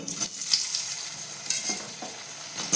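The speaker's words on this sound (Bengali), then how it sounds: "মাছ আর বড়ি ভাজা হয়ে গেল এবার আলু ভেজে নিই" Potatoes fry in a pan alongside earlier-fried pabda fish and bori, sizzling steadily while a spatula scrapes and stirs, with a few sharper clacks against the pan near the end.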